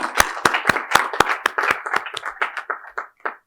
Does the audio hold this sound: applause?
yes